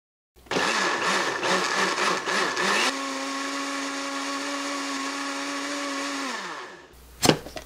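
An electric blender grinds bean leaves with water, starting with a choppy, pulsing churn, then settling into a steady high whir before spinning down and stopping, followed by a brief clatter.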